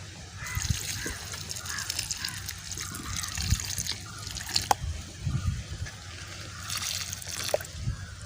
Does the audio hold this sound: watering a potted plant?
yes